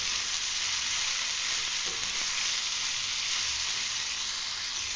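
Masala with coriander stems roasts in a pan, giving a dense, steady sizzle and frying hiss throughout, close and loud, with a faint stirring scrape.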